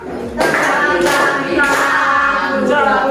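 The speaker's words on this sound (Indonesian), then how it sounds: "Beri tepuk bintang untuk Safira." An Indonesian primary classroom gives a short rhythmic star clap for a pupil named Safira, several bursts of hand claps from the group sounding close and fairly loud in a small room.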